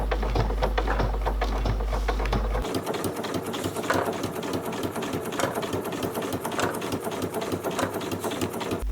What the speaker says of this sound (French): Je couds doucement pour bien positionner